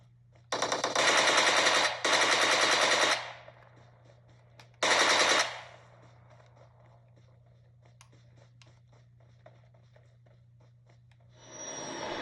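Gunfire in the mobile shooter PUBG Mobile, played on an Android tablet with an IPEGA 9167 controller: loud automatic bursts, two close together, then a shorter third after a pause, with a steady low hum and faint game noises between.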